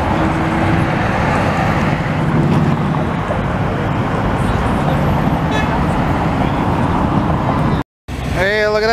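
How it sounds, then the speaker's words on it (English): Classic Volkswagen bus putting along a Montreal street with advertising on it, its engine blended into dense roadway traffic noise, loud and continuous, ending with a brief cutout and a short horn-like tone. "A classic VW bus, man."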